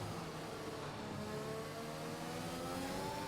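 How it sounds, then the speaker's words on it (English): Racing car in a racing video game downshifting through a section of the Austrian Grand Prix track, its engine whirring and revving steadily at mid pitch, continuous and fairly close throughout. "A lot of downshifting in this part of the track, isn't there?"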